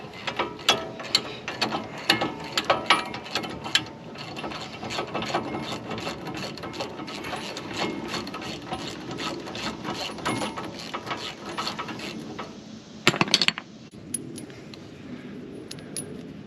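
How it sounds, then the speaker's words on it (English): A long ratchet wrench works the brake caliper bolts on a 2016 Ford F150 during a front brake job. It gives close, rapid, metallic clicking in uneven bursts, with a louder clatter near the end. "We can go to our also long ratchet, but a little shorter, so we're not here all day."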